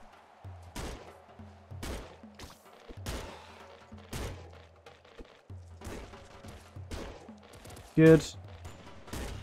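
Gunfire and explosive shots in the video game Nuclear Throne, with rapid bursts of shots and blasts repeating throughout and a loud blast near the end, while someone speaks briefly.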